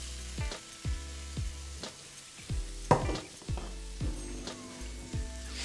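Onions, leeks and mushrooms fry in a pan during a live cooking demonstration, a steady sizzle broken by repeated scraping and stirring knocks from a utensil, close and moderately loud, with no talking.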